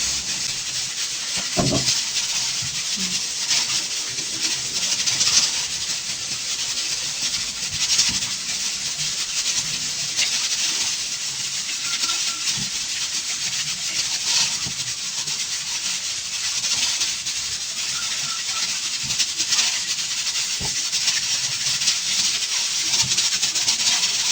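Steady broadband hiss of steam escaping a pressure cooker, continuous and fairly loud throughout, with faint kitchen clatter underneath.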